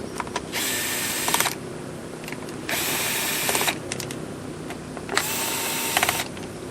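A power tool drives screws in repeated bursts of about a second each while a Stihl 044 chainsaw is rebuilt, with clicking ratchet sounds between runs over a steady background hum.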